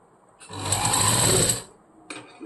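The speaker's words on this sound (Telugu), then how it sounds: "ఈ చివరి వరకు ఇలా స్టిచ్ చేసుకుంటూ వచ్చేసాను" A sewing machine with a normal presser foot stitches piping onto a blouse in one loud, steady run of about a second, then stops, followed by a couple of faint clicks.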